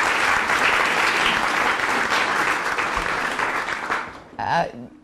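An audience at a speech for International Women's Day at the United Nations gives a full round of applause that stays steady, then fades out as a speaker begins talking near the end.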